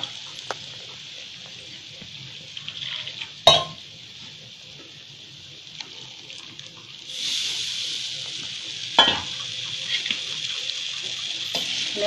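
Besan pithla batter being stirred into a hot tadka in a Maharashtrian kitchen pan, a soft continuous wet stirring hiss with two sharper scrapes or knocks of the spoon against the pan, no talking.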